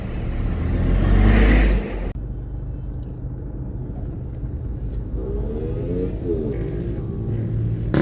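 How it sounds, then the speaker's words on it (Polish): A car drives among trucks on a road in the Philippines, with a loud rush of passing traffic at first, then a steady engine and road rumble and a faint horn-like tone partway through. "takie dziwne uczucie, jak się jeździ pomiędzy ciężarówkami"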